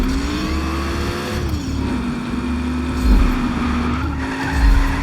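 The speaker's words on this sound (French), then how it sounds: "Petit dérapage magnifique" A car's engine in Just Cause 3 whines at a steady pitch as tires squeal and skid through a long slide, with low rumbling underneath.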